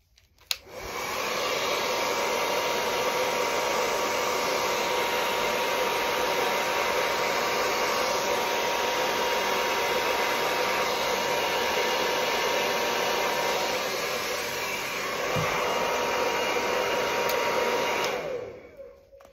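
A blower pushes acrylic paint across a Dutch pour, giving a loud steady close-up whoosh that runs continuously for most of the time before cutting off near the end, with no voices.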